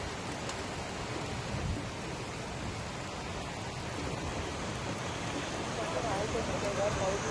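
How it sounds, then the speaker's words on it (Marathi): Heavy monsoon rain falls on an urban street in Dadar, Mumbai, as a dense, even hiss of downpour that holds steady throughout and swells slightly toward the end. "आपण जी दादरचे दृश्य बघतो की पाऊस आहे तो जोर वाढलेला पाहायला मिळतो पावसाचा"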